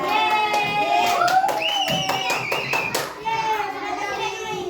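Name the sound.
children clapping hands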